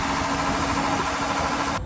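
A school bus converted into a skoolie idles roughly on five cylinders in winter, a loud, steady rumbling drone with a harsh broadband hiss that cuts off abruptly just before the end.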